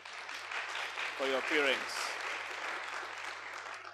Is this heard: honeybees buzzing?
no